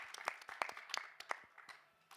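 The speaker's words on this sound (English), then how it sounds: "Could we give a round of applause, please, for my fantastic panelists who've done an amazing job?" Audience at a COP28 climate tourism conference panel applauds its panelists, a brief, quiet burst of scattered hand claps of moderate density that thins out toward the end.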